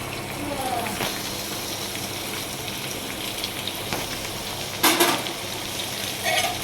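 Tomato, green chili and onion sizzling as they go into hot oil, with steady frying hiss and scraping stirs, a couple of louder clatters near the end, while a voice talks over the cooking.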